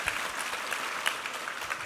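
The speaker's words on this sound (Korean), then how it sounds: "우리 하나님께 감사와 영광의 박수 올려드리겠습니다." A church congregation claps during a Sunday worship service, dense sustained applause from many hands in a large room, with no talking.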